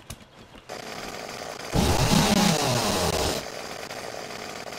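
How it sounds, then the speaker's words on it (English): Chainsaw cutting cactus in the game 7 Days to Die, a loud buzzing engine whine that kicks in abruptly for about two seconds of cutting, then drops back to a steady idle drone. "Man, that chainsaw is seriously loud."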